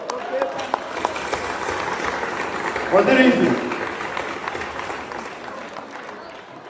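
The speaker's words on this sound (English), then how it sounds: "I would like everybody just get up and give them a round of applause." Crowd applause at the Iri Ji festival, a steady patter of clapping from a gathered audience, with a person speaking briefly over it and cheering swelling midway before easing off.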